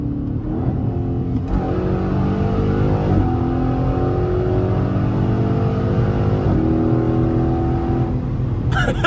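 A Dodge Charger Scat Pack Shaker Edition accelerates hard under an automatic transmission, its engine note climbing in rising sweeps broken by distinct gear shifts, loud and close throughout with no talking.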